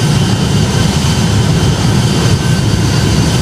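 Boeing 757 jet engines at takeoff thrust in the Project Flight flight-simulator game, a loud, steady, dense roar holding throughout without speech.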